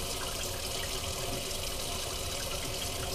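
Lukewarm water runs steadily from a kitchen tap over a partly frozen whole chicken, producing a loud, continuous, close splashing hiss with no breaks and no talking.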